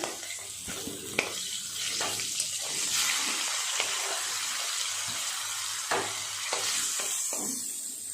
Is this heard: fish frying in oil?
yes